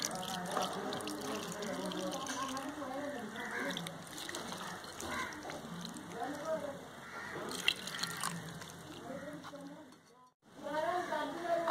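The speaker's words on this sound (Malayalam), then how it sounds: "ഇതിലേക്ക് നമുക്ക് ആവശ്യത്തിന് വെള്ളം ഒഴിച്ചു കൊടുക്കാം." Water is poured into a flour mixture being kneaded for puttu in a home kitchen, a soft running and splashing under continuous talk, with a brief quiet gap near the end.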